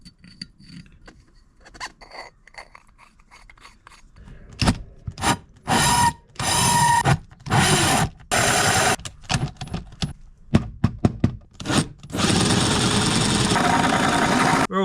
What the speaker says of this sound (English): I don't think it likes drilling holes this size.